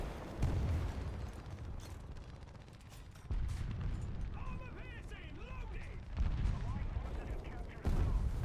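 Gunfire hits a tank in War Thunder, several heavy impact bursts landing at irregular intervals, each a sudden loud jolt over a steady mechanical engine rumble, with speech in between.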